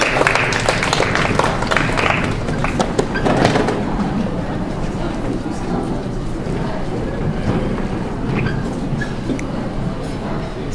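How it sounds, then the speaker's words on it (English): Audience applause at a campus open-mic night: dense, steady clapping from a crowd, loudest in the first few seconds and then continuing at a slightly lower level for the rest of the stretch. "So please give a round of applause."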